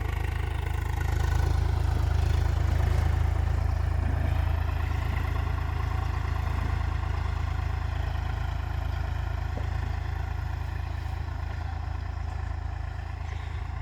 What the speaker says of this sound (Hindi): ये एक ही मालिक के ट्रैक्टर हैं